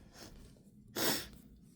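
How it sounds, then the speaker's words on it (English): A single short, breathy sniff through the nose comes up close after a quiet pause, briefly loud against a soft room background. "I'm sorry, I keep sniffing."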